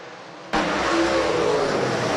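Late model race cars take the green flag for a B main at a speedway, a sudden loud roar of many engines bursting in and holding as a dense, steady wall of sound.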